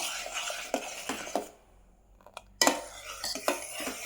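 Metal spoon stirring and clinking against a pot while preservative is mixed into homemade pineapple jam, a few scraping strokes, a brief quiet gap, then more clatter.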